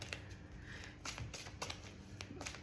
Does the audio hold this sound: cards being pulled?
yes